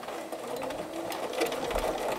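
A sewing machine runs an overlock stitch along the edge of a tote bag, giving a steady, fast mechanical whir and needle chatter that continues without pause.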